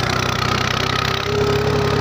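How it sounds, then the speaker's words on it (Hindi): A tractor engine runs steadily as it sets off on a mountain trek toward remote lakes, a continuous mid-pitched drone with a throbbing rhythm, fairly close and alone without talk. "ट्रैक्टर हमारा आ गया है, चल पड़े।"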